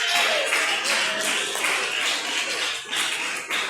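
A congregation at a church worship service applauds in a sustained, dense round of clapping that holds steady for several seconds, loud and close.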